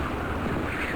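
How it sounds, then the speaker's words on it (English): Twister spell summoning a magical tornado in the Quake mod Prydon Gate, a dense, continuous roaring wind rush with low rumble, steady and loud throughout, no voices. "We can summon a magical fucking tornado."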